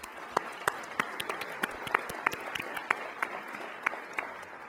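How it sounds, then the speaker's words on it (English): Applause at a gala: scattered claps from a modest audience rise into steady, moderately close clapping with distinct individual hand strikes throughout. "Let's give them a round of applause, please."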